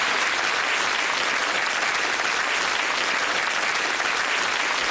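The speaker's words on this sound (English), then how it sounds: "Give them a nice warm round of applause." A studio audience at the Bullseye game show claps in sustained, dense applause, loud and even throughout, with no voices over it.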